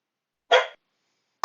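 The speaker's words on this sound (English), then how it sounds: "The dog is barking." A single dog bark, short and fairly loud, standing alone against silence, with the onset of another sound cut off at the very end.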